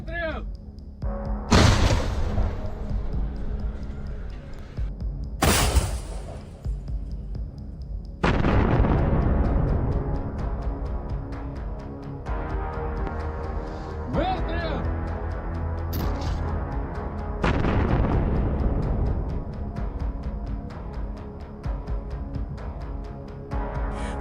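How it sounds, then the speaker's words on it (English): Self-propelled 2S3 Akatsiya howitzer firing from a field position, several heavy booming shots spaced a few seconds apart, each followed by a long rumbling decay, with a voice talking over much of it. "The Acacia rolled to the firing point and began firing."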